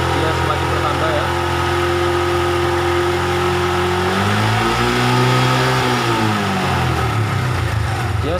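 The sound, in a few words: Honda Revo motorcycle engine revving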